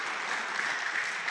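A church congregation at a Sunday service applauding loudly and continuously to welcome the pastor, a dense even wash of many hands clapping.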